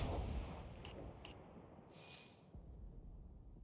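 An artillery shell fired and landing in World of Tanks, with a loud opening boom that fades into a low rumble, followed by a few sharp, brief cracks.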